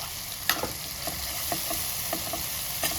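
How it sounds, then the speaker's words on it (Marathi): Chili powder, asafoetida and turmeric sautéing in a pan: a soft continuous sizzle with a few light scrapes and taps of a spoon stirring, moderately quiet, no voices. "छान परतून घ्यायचं"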